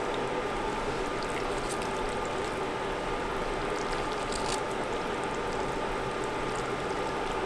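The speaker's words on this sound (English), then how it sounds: "I'm gonna add some water." Water poured into a pot of chili, a steady rushing pour that runs continuously and fairly quietly for several seconds without any talk.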